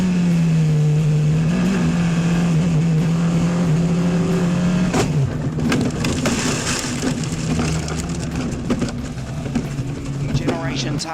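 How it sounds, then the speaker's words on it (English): Formula 4 racing cars from the Van Amersfoort team roar around a race track, one engine holding a loud steady drone before dropping away, followed by a busy clatter of passing cars and a commentator talking over it. "One of the Van Amersfoort racing cars out."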